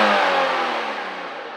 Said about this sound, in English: and then when you rev it up,